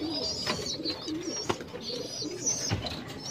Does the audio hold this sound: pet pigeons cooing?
yes